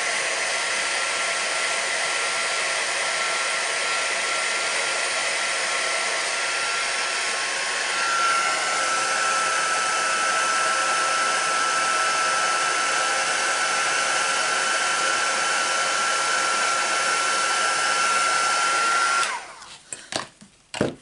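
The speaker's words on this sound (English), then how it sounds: "heat tool" A heat gun blows with a loud, steady whooshing roar that holds for about twenty seconds, then cuts off with a few clunks.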